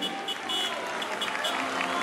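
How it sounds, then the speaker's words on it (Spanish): A crowd gives steady applause for soldiers of the Sucre battalion at a night carnival parade of floats and costumes, a dense, continuous clapping wash with faint background noise. "Aplauso para los soldados del batallón Sucre"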